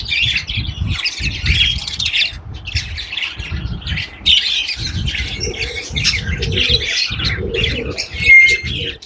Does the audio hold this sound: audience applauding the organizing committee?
no